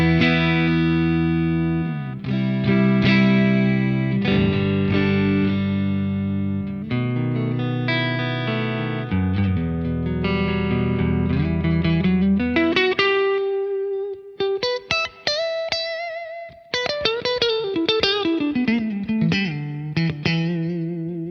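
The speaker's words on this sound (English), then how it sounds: "Let's throw in some reverb." Clean electric guitar through a Friedman Twin Sister amp rings out in sustained chords and then single notes, with a wash of reverb trailing each phrase; no voices.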